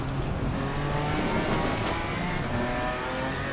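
A Ginetta GT4 race car's engine drones loud and close in the Assetto Corsa Competizione racing game on a wet Bathurst circuit, a continuous throaty roar with hiss from rain spray, no talking.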